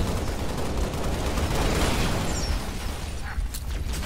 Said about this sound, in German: Die haben Granaten dahin geworfen